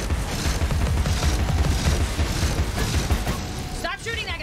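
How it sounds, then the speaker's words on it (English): Rapid bursts of video game gunfire in a creepy horror game, loud and continuous with booms and mechanical clatter, ending in a brief swooping effect. "Stop shooting that guy."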